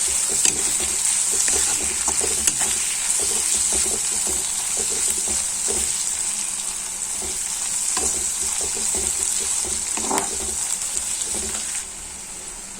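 Onions browned in a pan sizzle and fry steadily as green chilies are added for a Malayalam clam fry, with stirring scrapes and crackles over a constant bright hiss.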